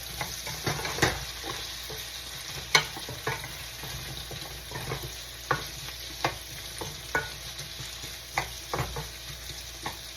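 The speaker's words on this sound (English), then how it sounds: "So I'm going to give this a little stir." Butternut squash being stirred as it fries in a pan, with repeated soft scraping strokes at an irregular rhythm over a steady, faint sizzle, close by and with no talking.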